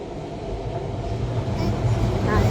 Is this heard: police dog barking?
no